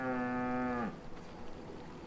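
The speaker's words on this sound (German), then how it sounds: "Hier sind Kühe." Cows in the video game V Rising give a single drawn-out moo that fades away after about a second, leaving quiet game ambience.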